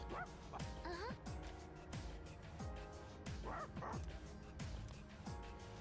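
A dog in the Persona 3 Reload video game lets out repeated short yips and barks with a faint whimper, evenly spaced over game background music, moderately close.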